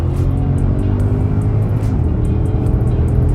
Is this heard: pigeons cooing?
no